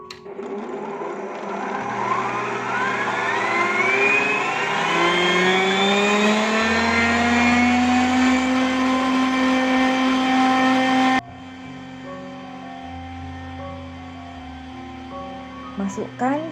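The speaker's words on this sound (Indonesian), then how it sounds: "Masukkan 8 putih telur ke dalam bowl, lalu dimixer sampai mengembang." Electric mixer whipping eight egg whites in a bowl, a loud steady whine that rises in pitch as the whites fluff up, then drops to a lower hum near the end.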